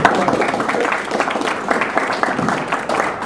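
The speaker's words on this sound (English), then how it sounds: "Let's have another round of applause." An audience at a talk gives a round of applause, a thick continuous wash of claps at full strength that carries evenly to the close.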